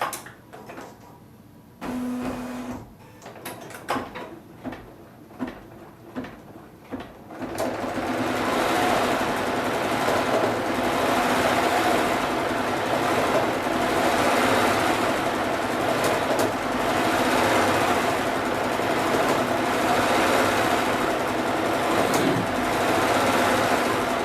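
Bernina B990 embroidery machine stitching a Red Riding Hood rag doll design: after a few sparse clicks and short whirs, a steady, continuous high-speed mechanical hum of rapid stitching runs close and loud.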